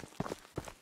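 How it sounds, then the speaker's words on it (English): Footsteps in the video game Ghosts of Tabor, two soft, muffled thuds in quick succession, fairly quiet and alone. "I thought I heard footsteps then."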